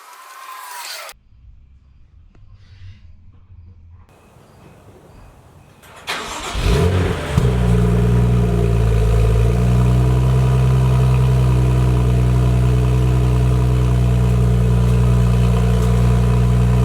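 A BMW M2 fitted with an XForce Varex adjustable exhaust with its valves open. After a few quiet shuffling seconds the engine catches and settles into a loud, deep, steady rumble up close.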